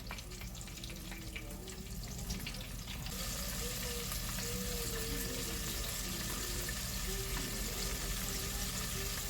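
Chicken wings for buffalo hot wings deep frying in a fryer, giving a continuous dense bubbling hiss that grows louder after a few seconds and then holds steady.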